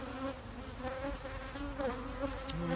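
Honey bees buzzing around an open hive during maintenance, a faint, continuous droning hum with shifting pitches as individual bees pass near, with a few small clicks of handling.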